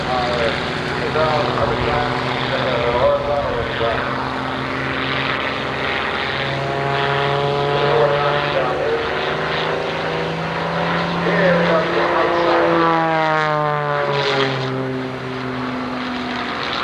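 A propeller aircraft flying aerobatics at the Oshkosh airshow, its engine droning and shifting pitch as it rolls and changes direction, heard continuously under an announcer's commentary.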